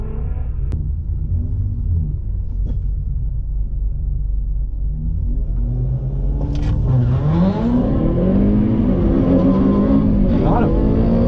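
A 1997 Honda Civic with a K20 engine swap roars under hard acceleration in a street race, the engine note climbing loudly through the gears after a quieter start, with voices talking over it.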